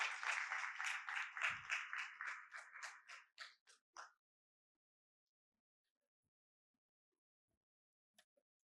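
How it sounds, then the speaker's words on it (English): Audience applause for a panel at a logistics and trade conference, a few seconds of dense clapping that thins into scattered claps and stops, followed by near silence. "A huge round of applause for this panel."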